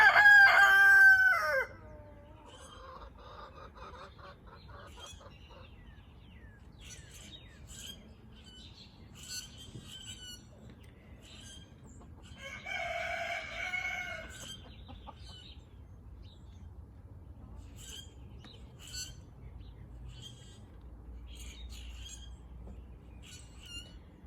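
Brahma chickens outside a bedroom window: a rooster crows loudly at the start, then scattered squawks and chirps, with a second burst of fowl calls midway over quiet outdoor ambience.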